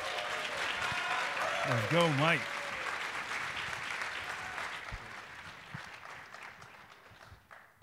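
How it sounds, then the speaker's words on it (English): A conference audience at a tech keynote breaks into sustained applause for a speaker being introduced, broad and steady throughout, with a voice calling out and brief cheering early on, fading slightly toward the end. "I'd like to give a warm round of applause for Mike Hardington"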